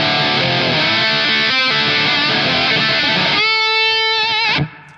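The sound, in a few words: electric guitar through Toxic Twins overdrive and Tungsten Plexi amp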